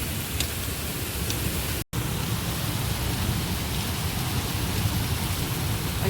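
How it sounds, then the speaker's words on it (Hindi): Heavy rain pours down in a steady, dense broadband hiss with no letup, apart from one very brief dropout, and no voices. "अभी इतनी तेज़ बारिश हो रही है"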